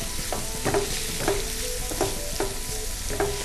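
Pre-cooked salad shrimp stirred in a hot pan give a steady frying hiss, broken by regular utensil scrapes and clinks against the pan roughly every half second.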